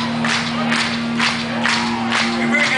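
Concert audience at a show claps and cheers steadily in waves of noise, with a low sustained musical drone beneath the crowd.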